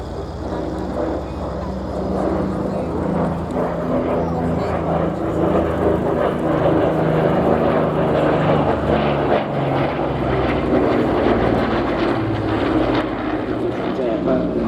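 Vintage piston aircraft at the Little Gransden airshow, engines producing about 2,000 horsepower each, a loud sustained propeller roar and throb that fills the whole stretch, with a voice talking over it.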